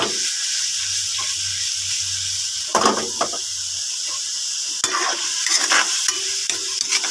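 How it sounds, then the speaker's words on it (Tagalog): Pork sizzles and hisses steadily in a hot pan, with occasional scraping and stirring clatter from a utensil. No voices. "I-prito muna natin. Ma-prito muna yung baboy."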